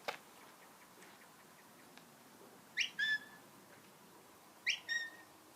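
A sheepdog handler in Ireland gives whistle signals to a working dog: two short, shrill, pitch-bending whistle calls about two seconds apart, sharp and clear above a quiet outdoor background.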